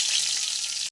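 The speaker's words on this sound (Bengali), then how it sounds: "তেল গরম হয়ে গেছে, এবার সাদা জিরে দিয়ে দেবো।" White cumin seeds hit hot oil in a pan and sizzle with a bright, crackling hiss that stays even for under a second before cutting off abruptly.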